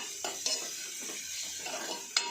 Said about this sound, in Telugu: ఇది బాగా మనకు గోధుమ కలర్ వచ్చేంత వరకు వేగాలి ఉల్లిగడ్డ